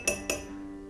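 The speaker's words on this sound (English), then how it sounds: "get it into the glass, give it a good mix" A spoon clinks twice against a glass while sugar is stirred into absinthe, two sharp ringing taps followed by a fading resonant tone, with no one speaking.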